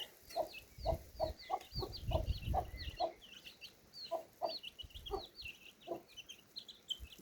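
A hen clucks in a steady series of low, close calls while chicks peep continuously in high chirps around her, fairly faint overall.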